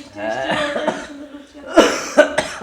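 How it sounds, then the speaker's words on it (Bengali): A person with a fresh morning cough coughs a few times in short bursts, close by, after a stretch of talking. "কাশি লেগে গেল।"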